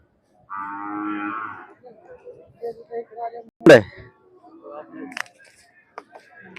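A Khillar bull gives a low, drawn-out moo near the start at a cattle market in Pandharpur, followed by scattered speech and a sharp clatter, with quiet gaps between.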